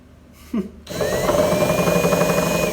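A power drill starts after a short quiet pause with a faint knock, then runs continuously at high speed with a steady, loud whine that holds to the end.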